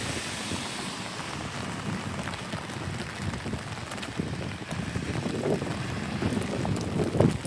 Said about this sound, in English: we got a real heavy downpour